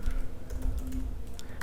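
A computer keyboard typing a URL, a short run of soft, close key clicks at a fairly quick pace over a faint background hum.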